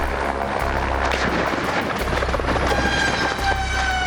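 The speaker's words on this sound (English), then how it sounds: "the rotor blades got tangled in a bunch of cables, and the helicopter instantly broke in half" A helicopter whose rotor blades tangled in cables breaks apart, giving loud rhythmic rotor thumping with harsh crunching impacts, heavy low pulses repeating close and alone.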